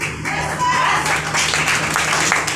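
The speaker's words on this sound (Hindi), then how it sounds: "तो तालियां बजा रहे हैं, बेइज्जती कर रहे हैं यार।" Audience clapping at a talk or seminar, a continuous wash of many hands applauding at moderate loudness, with voices faintly underneath.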